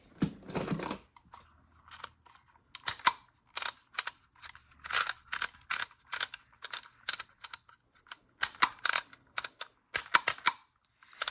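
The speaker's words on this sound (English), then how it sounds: "I'm going to cut around that a little bit more." Scissors cutting around a book sticker, with a long series of close, crisp snipping clicks in irregular bursts, some quick double snips, and faint paper rustle between cuts.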